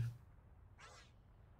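A cat gives a single short meow at moderate distance, alone over a quiet background hum.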